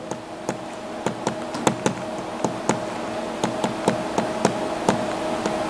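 Chalk tapping and scraping on a board during a graduate information theory lecture, a steady run of sharp knocks spaced roughly every third of a second, close and fairly loud over a quiet room hum, with no talking.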